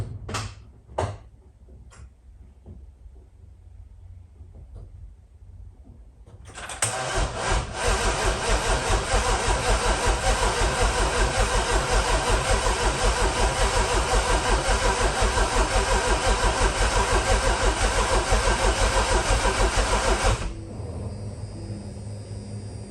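A BMW M135i with a rebuilt N55 engine and new turbo, on its first start attempt after a refit: a few clicks, then a loud sustained rasping crank-and-run roar for about fourteen seconds that cuts off abruptly.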